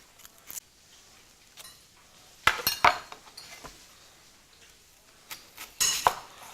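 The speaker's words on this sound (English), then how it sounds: "I'm cutting these into small wedges." A knife chops brown onion into small wedges on a board, giving scattered sharp knocks and clinks with quiet gaps between them and a couple of louder bursts of cutting.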